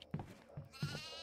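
A goat in the horror game Devour gives three short bleats in quick succession, fairly close and moderately loud, with no talk.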